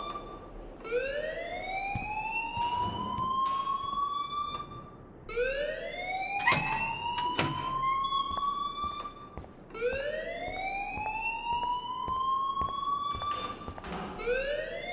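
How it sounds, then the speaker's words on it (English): An alarm wails in the Life Is Strange video game, a rising siren-like tone that sweeps upward and repeats about every four and a half seconds, loud and steady, with a few sharp clicks mixed in. "please turn off that alarm since that's your job"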